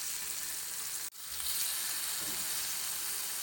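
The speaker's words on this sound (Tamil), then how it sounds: "கலந்து வச்சது தோசைக்கல்லில் எண்ணெய் விட்டு இதெல்லாம் ஃப்ரை பண்ணி எடுத்துக்கோங்க." Paneer pieces fry in oil on a dosa pan for paneer biryani, a loud, close, continuous hissing sizzle with one brief cut near the start and a faint scrape.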